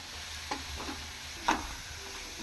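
Onion with turmeric and green chili paste frying softly in a pan, a faint steady sizzle broken by a few spatula taps and scrapes, close and quiet with no voices.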